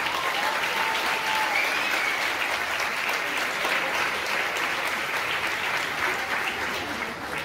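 Audience applause rolls on as a steady, dense wash of many hands, even and moderately loud for several seconds with no break.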